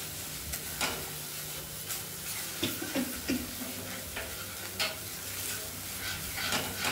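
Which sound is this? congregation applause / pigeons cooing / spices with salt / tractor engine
spices with salt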